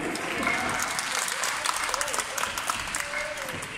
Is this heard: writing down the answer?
no